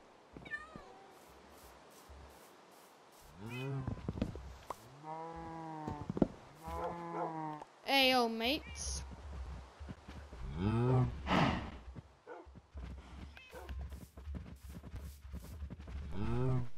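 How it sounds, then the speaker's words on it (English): Cows mooing in Minecraft, several drawn-out low moos in a row, with a cat meowing alongside and the footsteps and shuffling of a player moving around. "let's attract the cows."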